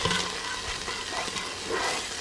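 A big spoon stirs hot vegan chili in a pot, making a continuous close, thick scraping and bubbling wash of sound with a few soft knocks.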